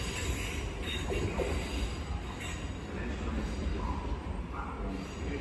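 A Southern service train rumbles steadily into London Bridge station, its wheels screeching faintly above the low, continuous roar.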